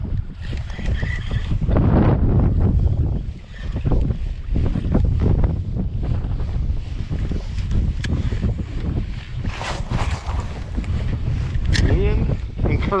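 Heavy wind buffets the microphone on a river during winter bass fishing from a boat among rocks, a steady loud roar with gusts and water noise throughout, and someone talks over it at times.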